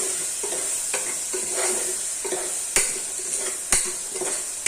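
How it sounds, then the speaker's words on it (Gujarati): Okra (bhinda) stirred in hot oil in a pan for a Kathiawadi dry vegetable dish, with steady sizzling and repeated scraping of a spoon against the pan, including two sharp metal clinks. "હવે એને ઘડીક વાર તેલમાં તેલમાં ફેરવવાનું"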